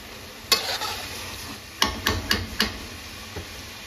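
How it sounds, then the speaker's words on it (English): Ground beef and celery stirred in a hot pan: a spatula knocks the pan once, then a quick run of four sharp scrapes and taps over a faint sizzle, with no talking. "we're gonna go ahead and get this a good mix"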